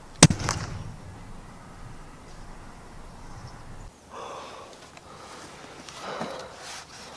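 A recoilless air rifle fires a single sharp shot at a feral pigeon on a farmyard, a crisp near crack at the very start followed by quiet outdoor ambience and faint rustling.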